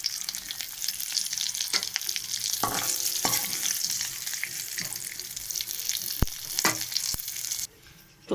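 Cauliflower pieces frying in hot oil, a dense sizzle and crackle up close, broken by several sharp scrapes and taps of a spoon, before the hiss drops away at the end.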